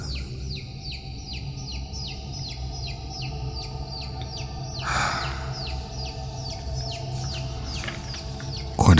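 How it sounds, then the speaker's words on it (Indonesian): Baby chicks cheep in rapid, repeated high peeps, a steady chorus over a low background hum, with one louder rustling burst midway. "Kok ada suara anak ayam sih?"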